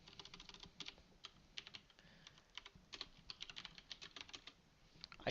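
Someone types on a computer keyboard, producing quiet, close, irregular clicking keystrokes in short runs with small pauses between them. No voices are heard.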